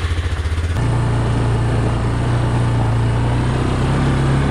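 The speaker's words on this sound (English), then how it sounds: "let's get the ATV, fire this up" An ATV engine cranks briefly in a few pulses, catches and settles into a steady, close idle that keeps running, with no voices over it, on a cold day after an ice storm.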